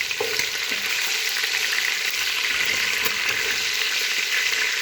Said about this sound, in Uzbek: Aralashtiramiz.